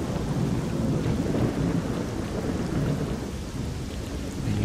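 Steady heavy rain with deep rolling thunder in the game S.T.A.L.K.E.R. Shadow of Chernobyl, a dense continuous downpour close by with low rumbles swelling underneath throughout, no voices.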